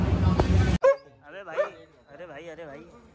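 Dog barks during a Holi celebration: a couple of short, loud yelps and barks following a burst of noise, with quieter whimpering yips after, close by.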